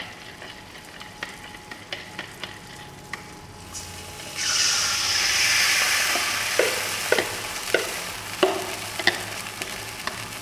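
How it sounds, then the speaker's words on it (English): Sauce added to melted butter simmers in a pan for chicken wings, giving a steady sizzle that swells loudly midway, with sharp scraping stirs and clinks scattered throughout and no talking. "So we're going to add the sauce now to the pan."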